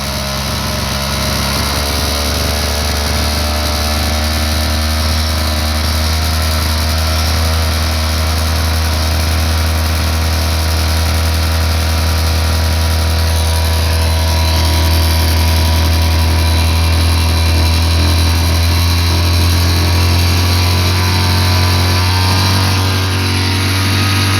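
A small homemade generator built from an induction motor runs continuously with a loud, steady electrical hum and mechanical whine that holds an even level throughout, with no voices.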